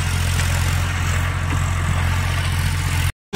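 Tractor fitted with a rotavator, its diesel engine idling steadily with a low, throbbing hum before cutting off abruptly into silence near the end.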